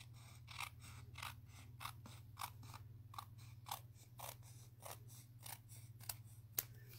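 Scissors snip crisply through card paper in a steady run of close, rhythmic cuts over a faint low hum while an edge is trimmed.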